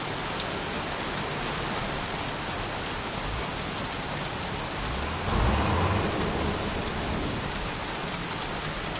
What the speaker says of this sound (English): won't this rain ever let up?